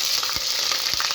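Quail pieces sizzle and fry steadily in hot oil with garlic, a loud, continuous crackling hiss close to the pan.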